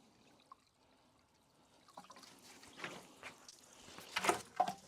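Coolant flush fluid running out of a Toyota HDJ78 Troopy cooling system, quiet at first, then an irregular trickle and splashing that grows louder in bursts toward the end.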